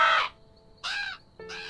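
Birds caw near a scarecrow in an animated cartoon, three loud, harsh calls spaced about half a second apart with quiet gaps between them, close and clear with no talking.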